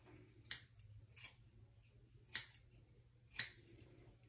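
Scissors trimming hair up close, four or five short, crisp snips spaced irregularly over a faint low hum, with no talking.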